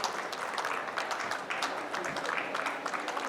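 Applause from an audience at a women's hospitality industry expo in Bengaluru, a steady, fairly faint wash of many hands clapping continuously throughout.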